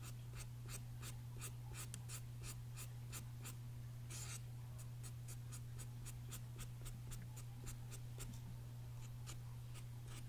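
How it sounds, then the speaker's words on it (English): A cosmetic brow pencil strokes across an eyebrow in a close, quiet ASMR salon setting, giving a steady series of soft, rhythmic scratches, roughly two per second, over a low constant hum. "just going to just pencil in a little bit of the brow to make it look a little bit"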